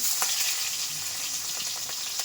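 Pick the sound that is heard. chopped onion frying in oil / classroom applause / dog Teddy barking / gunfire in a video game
chopped onion frying in oil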